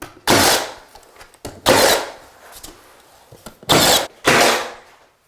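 A nail gun fires while framing the perimeter of a modern accent wall, four sharp bursts of pneumatic snapping and hissing in two spaced pairs, close and loud, with quieter handling noise between.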